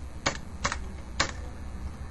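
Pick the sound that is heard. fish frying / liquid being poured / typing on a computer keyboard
typing on a computer keyboard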